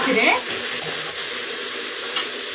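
Masala frying in hot oil as it is stirred in a pan, a steady loud sizzle with scraping stir sounds throughout and no voices.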